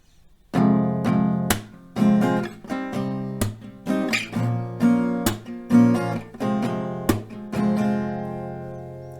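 An acoustic guitar plays a slow strumming pattern for a song, with a dozen or so distinct strums in an unhurried, uneven rhythm, close and clear with no talking.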